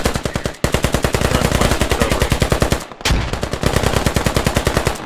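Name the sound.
gunfire in a military video game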